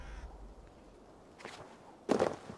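A bird calls in Assassin's Creed Valhalla with one quiet cry and then a louder, harsh caw near the end, set over faint game ambience.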